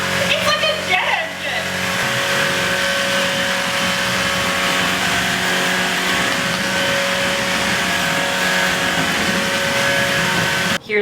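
A cordless vacuum cleaner motor whines loudly and continuously, jet-like, its steady drone filling the whole stretch.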